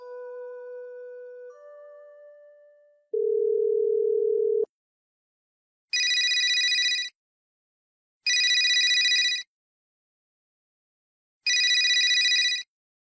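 A telephone ringing with an incoming call: three separate bursts of bright electronic ringing, each about a second long with gaps between, coming after a few steady tones.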